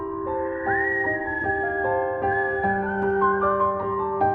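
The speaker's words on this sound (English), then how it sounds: "He suddenly heard the sound of whistling from the trees to his right" Eerie whistling from the trees beside a road in a dark forest, sustained tones gliding and stepping between pitches over a low murky bed, fairly loud and continuous with no talking.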